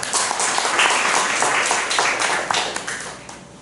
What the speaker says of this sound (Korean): 다시 한번 건강하게 우리 품에 안겨주신 하나님께 감사드리며 박수로 환영해 주시죠.